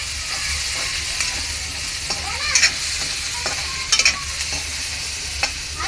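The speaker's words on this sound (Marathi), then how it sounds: "मग याच्यात आपण कांदा टाकणार. हा कांदा चांगला गोल्डन कलर होईपर्यंत आपण भाजून घेणार." Onions sizzle and fry in a hot pan for egg curry, a steady close crackle with a few brief louder stirring scrapes and no talking.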